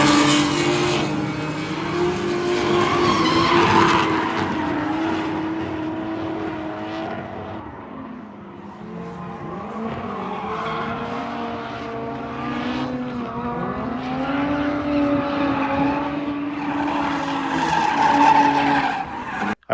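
A turbocharged BMW E36 with an M52 engine drifts, its tires squealing loudly and continuously over a wavering engine note for about twenty seconds, with no voices.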